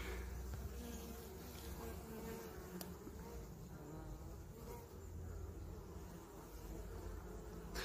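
Honeybees buzzing around a hive with newly added nest frames, a steady, fairly quiet drone of many wings with no talk.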